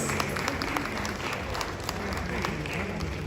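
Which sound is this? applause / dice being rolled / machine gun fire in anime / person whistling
applause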